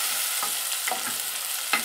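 Onions sizzle in a pot for a creamy butternut squash soup, a steady broadband fry punctuated by a few soft scraping stirs, close and moderately loud, with no one talking.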